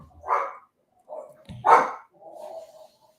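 A dog barks several times in the background, loud and sharp, with short gaps between the barks and nothing else heard around them.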